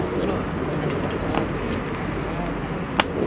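Teddy pigeons cooing with soft, low, rolling coos over a busy background of murmuring voices and ambient noise, with a brief sharp click near the end.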